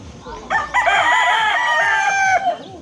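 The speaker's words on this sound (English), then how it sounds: "she has a bunch of chickens and different things" A rooster crows loudly and close by in one long drawn-out call, with hens clucking faintly underneath, beside a house on Bantayan Island, Cebu, Philippines.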